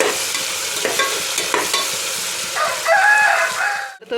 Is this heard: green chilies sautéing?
yes